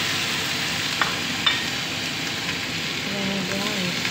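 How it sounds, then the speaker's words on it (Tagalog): Tomatoes sizzle and fry in a pan alongside kangkong and egg, a steady hiss with a few light stirring clicks and a faint voice in the background. "Ilalagay na natin yung kamatis."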